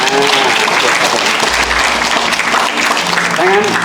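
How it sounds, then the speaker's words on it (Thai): Audience applause at a talk, a dense and loud continuous wash of clapping that lasts throughout, with a voice faintly audible beneath it. "ผมอยากให้ พวกเราที่กำลังชมอยู่ช่วยปรบมือขอบคุณทางด้านก่อนที่เราชมนะ"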